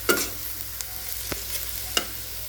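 Red amaranth greens hit a garlic tempering in a hot pan, giving a steady sizzle with a few stirring scrapes and clinks close by.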